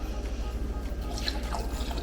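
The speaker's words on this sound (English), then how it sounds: "And then we pour the hot steaming milk." Hot steaming milk is poured from a pan into a mug of cocoa and drips onto the kitchen counter. It makes a soft, steady trickle with small splashes over a low background hum, and there is no clear speech.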